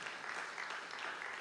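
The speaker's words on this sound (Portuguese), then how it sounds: "dê uma salva de palmas para Jesus" Church congregation applauding for Jesus during a sermon, a continuous wash of many hands clapping at a low, somewhat distant level, without speech.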